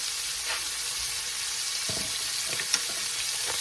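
Onions fry in a pan after cooking Salisbury steak, giving a steady, close hiss of sizzling with a few soft scrapes and stirring taps over the top.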